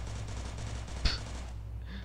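A single sharp shot rings out midway through a quiet stretch of a video game shooter, set over a steady low hum with faint background noise.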